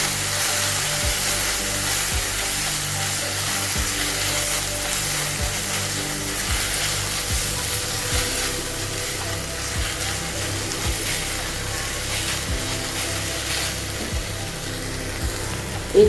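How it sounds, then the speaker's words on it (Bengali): Ginger garlic paste frying on a low gas flame for a coriander chicken dish, a steady hissing sizzle throughout, punctuated by regular clicking knocks from a spatula against the pan. "মোটামুটি আদা রসুনটা একটু ভাজা ভাজা হয়ে গেছে।"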